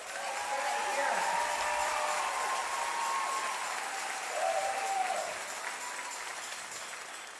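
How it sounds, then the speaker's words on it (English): A crowd claps in sustained, dense applause that swells slightly midway and then gradually tapers off. "let's just give these incredible students, performers, and staff one more round of applause"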